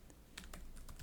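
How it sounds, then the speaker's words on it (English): Quick keystrokes on a computer keyboard while writing a git commit message in the nano editor, a handful of soft, close clicks in an uneven rhythm over about a second. "Now with nano, you can just start typing."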